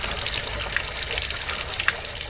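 Water gushes and splashes out of an opened drum at a campsite, a steady hissy pour with small spattering bursts, close by and without talk.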